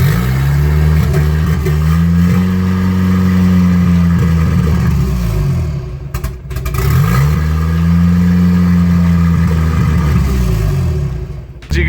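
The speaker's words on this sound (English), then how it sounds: "let's start the Volvo up, try and get it out there" A turbocharged Volvo engine cranks and fires, then settles into a loud, steady high idle with droning harmonics, briefly dipping and cutting out midway before catching again and holding its elevated idle.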